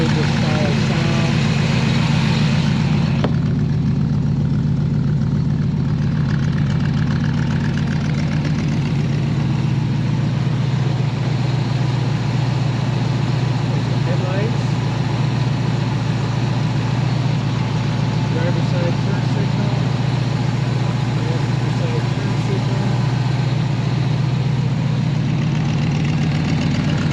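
A 365HP small block V8 in a 1966 Shelby Cobra replica idles steadily through its side pipes, a loud, continuous low rumble that holds for the full length with little change.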